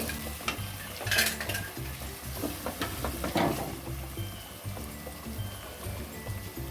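A spoon stirs ginger-garlic paste into tomatoes, onion and green chillies frying in a pan for masala avarekalu upma, giving soft scraping strokes and light metallic clinks over a quiet steady sizzle, with no voices.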